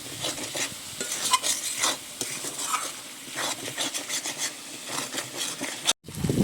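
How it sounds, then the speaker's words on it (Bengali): Spice paste thinned with water is stirred and fried in a pan, giving continuous soft sizzling broken by repeated scraping strokes of a utensil, close up with no voices. "এবারে মশলাটা কিন্তু খুব সুন্দর করে একসাথে কষে নেব"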